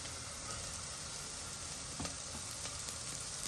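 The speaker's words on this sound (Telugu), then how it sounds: "ఇంకా మనం మన కూరగాయ ముక్కల్ని యాడ్ చేసేద్దాము బీన్స్" Chopped beans and other vegetable pieces hit a hot pan while making sweet corn soup, giving a steady broadband sizzle with a few clinks and stirring knocks. No voices are heard.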